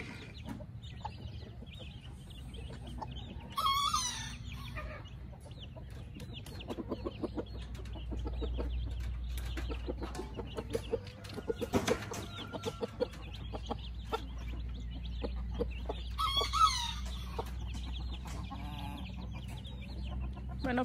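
Chickens cluck steadily at a farm, with a rooster crowing loudly twice and hen calls scattered among low background hum and occasional knocks; no one speaks.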